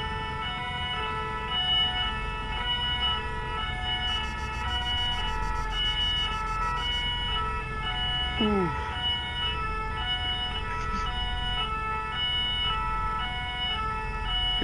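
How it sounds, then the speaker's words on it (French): Several fire engine sirens wail together in an Arma 3 Altis Life firefighter convoy, loud steady overlapping tones sustained throughout, with a brief horn-like blip partway through. "les sirènes, c'est pire que tout à l'heure"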